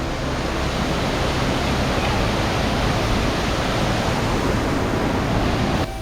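Steady rushing water of a waterfall pouring beneath a stone bridge in Kadanadu village, a dense continuous roar, loud and close, with no voices.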